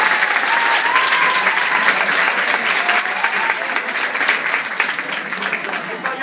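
Steady, dense applause from a theater audience at a comedy show, loud and sustained for several seconds without letting up.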